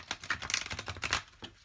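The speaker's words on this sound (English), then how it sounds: "So let me show you the shuffling." A large deck of oracle cards is shuffled by hand, giving quick crisp riffling flutters and soft slaps in uneven bursts, close and fairly quiet, with no speech.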